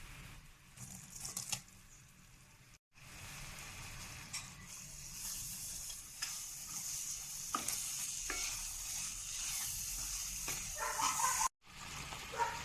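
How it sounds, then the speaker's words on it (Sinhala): Grated coconut stirred with a spoon into a sizzling jackfruit seed toffee mixture in a pan, a close, steady scraping under a continuous frying hiss, with two short silent breaks. "පොල් ටික එකතු කරලා හොඳින් හැඳි ගා ගන්න ඕන"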